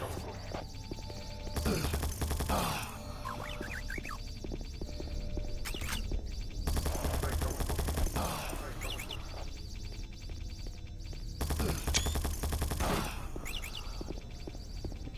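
Automated turret in Doom 3 fires in three loud broadband bursts, each about a second or two long and spaced roughly five seconds apart, over a steady low game hum.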